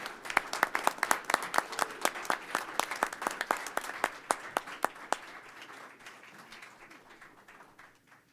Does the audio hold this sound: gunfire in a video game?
no